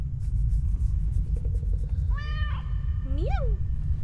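A cat meows in the horror indie game Stairway 7. Two rising-and-falling meows come close together over a constant low rumble, with a quick clicking rattle before them.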